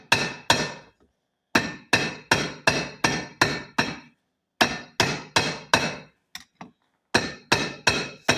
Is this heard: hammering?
yes